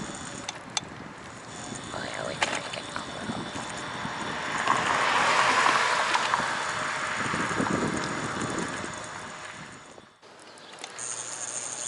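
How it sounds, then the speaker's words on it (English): Gusty wind buffets the microphone with a broad roar that rises and falls, heavier in the middle before dropping off abruptly near the end. "Kinda windy out here."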